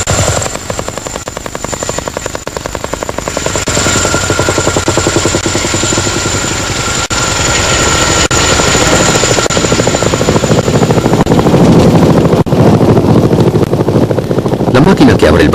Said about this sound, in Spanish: La máquina que abre el baile, para nosotros, es el Chinook, el CH-47 designado HC-1 en la RAF.